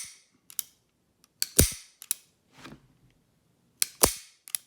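A Beretta 92X pistol gives sharp, close clicks as its trigger is pulled and reset: several distinct crisp snaps spaced unevenly in a quiet room, with a couple of softer mechanical rattles between them.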